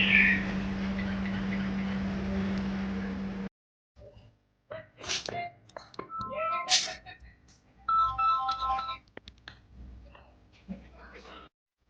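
A phone rings with a steady electronic tone for a few seconds during a Marathi drama scene, then cuts off as people begin talking.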